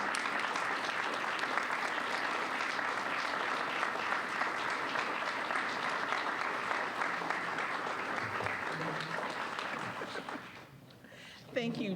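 A luncheon crowd at a Rotary Club meeting breaks into sustained applause, dense and steady for about ten seconds before tapering off, with a few voices rising as it ends.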